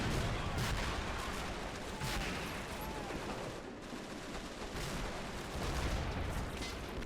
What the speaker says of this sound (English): we got the pack battery that's just opening up in sort of a volley